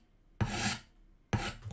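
Hand file rasping on hardened steel Japanese gravers, two distinct strokes with a rough, grinding texture, each about half a second long and separated by a short pause, close and quiet.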